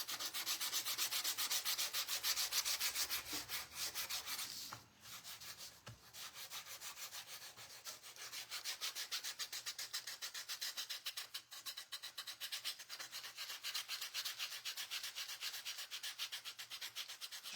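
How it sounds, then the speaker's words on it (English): A wooden craft piece is sanded by hand with rapid, rhythmic back-and-forth rasping strokes up close. The strokes pause briefly, then resume at a steady pace, with no talking. "We're gonna sand it, distress it,"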